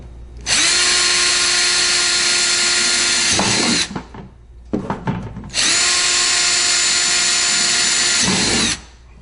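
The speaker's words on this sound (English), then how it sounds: "you're going to see me drill a couple of holes in the kayak with a drill bit." A power drill whines loudly in two long bursts, with short scraping and rattling between them as the bit drills holes through a plastic kayak hull.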